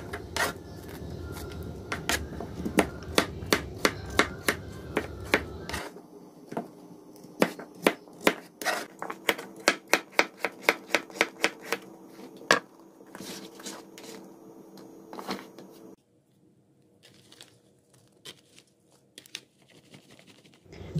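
A very sharp knife slicing white squash (upo) on a board, rapid crisp chopping clicks in quick bursts, then a sparser run of lighter cuts with pauses toward the end, close up and fairly loud.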